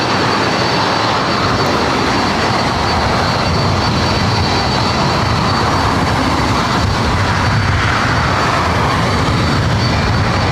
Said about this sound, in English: This is Southwest Airlines 2337 coming in from Phoenix on a 737-700.